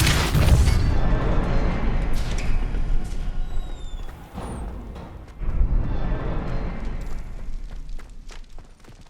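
A forceful magical blast from the Depulso spell in Hogwarts Legacy, a deep booming burst up front followed by rumbling impact and a second heavy thud, then fading debris-like rumble.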